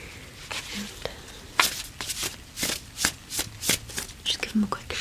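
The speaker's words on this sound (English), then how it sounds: "just give them a quick shuffle." A deck of cards is shuffled close up in a quiet ASMR setting, a series of crisp riffling and snapping bursts repeating in uneven rhythm over several seconds, with no talking.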